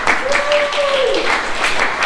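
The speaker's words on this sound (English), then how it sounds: "let's give Zijun a round of applause" Brief applause from the audience at a public speaking club meeting for its president, a short burst of clapping partly masked by a voice over it.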